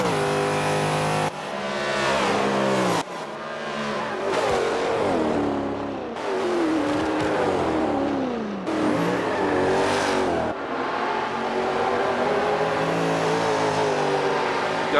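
V8 race cars in a racing video game, engines screaming loud and close through repeated rising gear pulls, each climb cut by a shift, with tones sweeping up and down as several cars battle.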